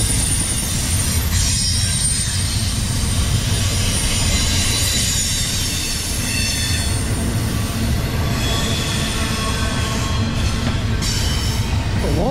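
A long freight train passes close by eastbound through Edison, New Jersey, at restricted speed, loud continuous rumble with wheels squealing and clanking, heavy and sustained throughout.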